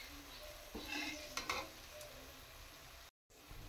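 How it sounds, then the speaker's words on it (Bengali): Food frying in a pan, a faint steady sizzle with a few soft scrapes and stirring clatters of a utensil near the start, then a brief dropout before the hiss resumes. "দেখতে পাচ্ছ লাল লাল করে ভেজে নিচ্ছি আমি এখন।"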